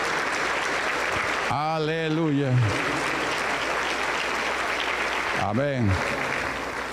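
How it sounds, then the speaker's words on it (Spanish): A church congregation claps throughout a worship service, a steady, fairly loud patter of many hands. A voice calls out twice over the applause. "Aplauso para el Señor."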